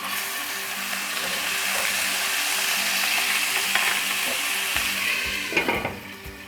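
Steady, close-up sizzling and crackling of about a tablespoon of garlic-ginger paste frying in a hot pan, with a few scraping stirs near the end.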